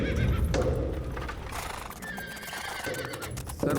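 A horse on a film set whinnies loudly and close, with hoof clip-clops and a second shorter neigh following, no talking.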